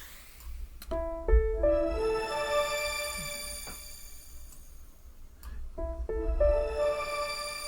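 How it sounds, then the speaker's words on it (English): Two bright plucked electronic notes, each blooming into a long shimmering tail of high overtones that slowly fades before the next phrase. "it reduces the reverb time, so it's changing the size of the reverb space."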